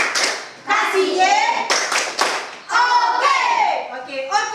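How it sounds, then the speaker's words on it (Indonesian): A school class does a rhythmic group clap cheer, with bursts of hand claps in time alongside children chanting and calling out together, loud and close throughout. "kita kasih tepuk oke dulu sama kelompok 1"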